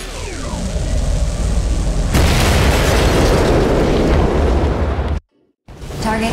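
A loud explosion of a destroyed target in the video game Daemon X Machina bursts in about two seconds in, then rumbles and crackles steadily before cutting off abruptly, with a brief return of noise at the end.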